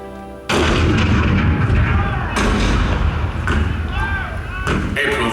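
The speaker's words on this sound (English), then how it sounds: "The cannon spoke for war, bitter, violent, and devastating." Heavy cannon fire booms at Fort Sumter in April 1861, a sudden loud blast followed by repeated thunderous reports and rumbling echoes, close and dense, with a voice speaking through it.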